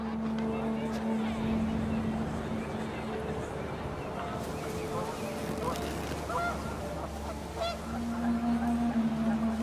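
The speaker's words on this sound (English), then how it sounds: "The wind picked up, and panicked geese appeared and quickly went." Panicked geese in the video game What Remains of Edith Finch honk repeatedly and loudly over a windy, rumbling background, while a voice speaks over the calls.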